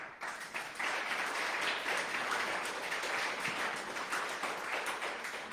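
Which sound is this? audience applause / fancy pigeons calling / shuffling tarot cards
audience applause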